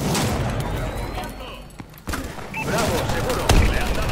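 Gunfire from a first-person shooter in a Domination match of AW: repeated shots and bursts with a few heavy thuds, loud and close, over constant game noise and a spoken announcer voice.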